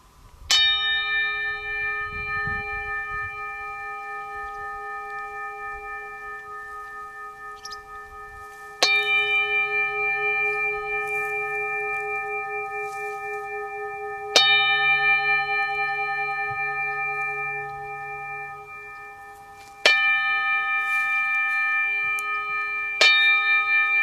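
A gong or resonant bell is struck four times at intervals of several seconds during a guided relaxation exercise, each clear stroke ringing out and slowly decaying before the next, with no talking.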